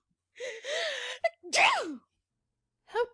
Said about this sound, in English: Duchess gasps and gives a tremendous sneeze.